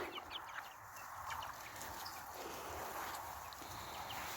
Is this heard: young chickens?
yes